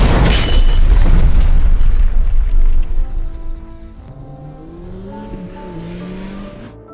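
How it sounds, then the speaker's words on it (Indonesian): A house blown up in a film scene: a loud, broad explosive blast opens, roaring and rumbling for about three seconds before decaying into lower tonal background sound. "Dia pun langsung meledakkan rumah itu untuk meninggalkan jejak."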